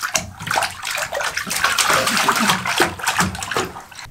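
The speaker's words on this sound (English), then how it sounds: "You got your bubble bath." Water sloshing and splashing in a child's bubble bath filled with blue water, a steady close wash of splashes and ripples throughout, with faint voices now and then.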